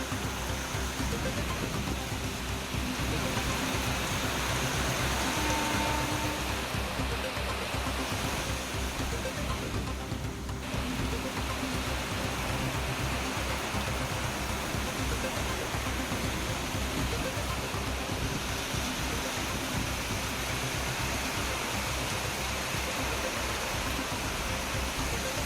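Heavy rain pouring across Chennai streets, a dense, steady hiss and patter that holds at the same level throughout with no voices.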